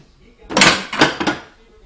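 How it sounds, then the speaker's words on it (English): A pot lid is picked up and handled on a stovetop, making three quick, close metallic clanks and rattles in a row. "Grab a lid for it."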